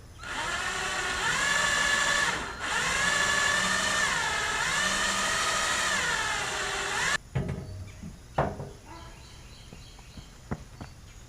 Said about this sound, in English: Have me an 1/8 inch drill bit. Just gonna make a little pilot hole for this one.